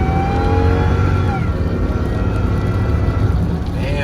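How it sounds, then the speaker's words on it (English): A Whipple-supercharged car accelerates hard at wide open throttle, its engine a loud, continuous close roar with rising harmonic tones throughout, and a faint voice mixed in. "wide open throttle"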